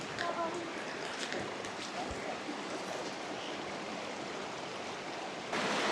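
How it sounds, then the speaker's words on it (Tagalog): Steady broadband rush of Baul Falls in Aurora, heard from some distance as a constant wash of falling water, with faint voices and scattered small knocks over it. "Ayun yung falls oh."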